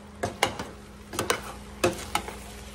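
A spoon stirring tomatoes into a big pot of chili, giving several soft scraping and clinking strokes at an uneven pace, quiet and close, with no talking.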